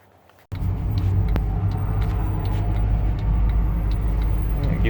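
A 1971 Ford F250 Camper Special truck starts moving onto the highway, its engine rumbling loud and steady from inside the cab after a brief quiet moment, with road noise building under it.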